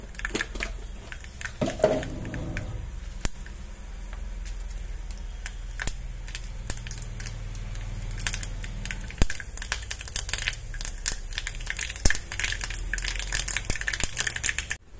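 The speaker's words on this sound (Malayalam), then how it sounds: "കടുകെല്ലാം നന്നായി പൊട്ടി വന്നിട്ടുണ്ട്." Mustard seeds spluttering in hot coconut oil in a pan for a Kerala-style potato curry, a dense run of sharp crackles and pops that grows busier toward the end.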